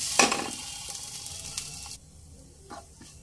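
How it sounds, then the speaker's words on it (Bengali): Mashed taro paste is stirred in a pan over a low flame, a soft sizzle with a scrape and clink at the start, settling to a quieter hiss with a faint scrape near the end. "লো ফ্লেমে 2 থেকে 3 মিনিট একটু নেড়ে নেব।"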